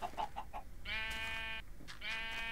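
Minecraft sheep bleat in the game, two drawn-out nasal bleats, close and clear, following a few short clucking sounds.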